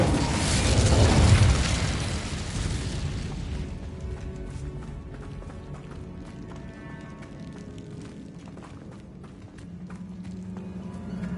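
Incendio fire spell cast in Hogwarts Legacy, a loud whooshing, roaring burst during the first few seconds that fades into quieter crackling and scattered clatter in a large chamber.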